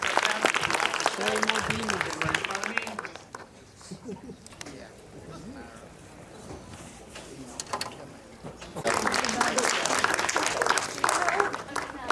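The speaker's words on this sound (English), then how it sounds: "Let's go down to one more round of applause" An audience at a retro gaming expo cosplay contest claps in dense bursts, a loud round at the start, a quieter stretch with scattered voices, then another strong swell of applause near the end.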